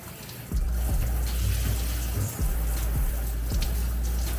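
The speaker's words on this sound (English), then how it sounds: "You want to make sure the water gets down all the way to the coat" Warm water splashes and streams steadily over a dog's coat during a rinse, a close, continuous wash of running water with a few soft thumps.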